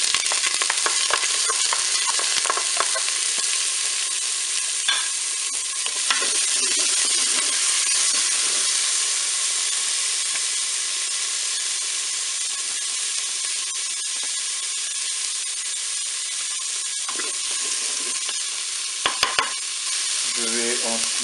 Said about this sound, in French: Je vais maintenant ajouter les carottes.